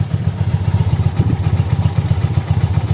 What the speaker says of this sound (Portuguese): Deixa eu botar só o motor pra vocês ouvirem, ó.